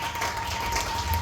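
A church congregation claps and applauds during a Sunday service, a dense burst of mixed hand claps heard steadily throughout under a faint steady tone.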